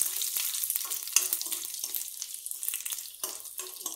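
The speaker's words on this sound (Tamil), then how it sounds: "உளுந்து காஞ்ச மிளகாய் போட்டு ஃப்ரை பண்ணிக்கலாம்." Urad dal and dried red chillies crackle and sizzle in hot oil for a tempering, with light stirring clicks and bright spitting bursts close up.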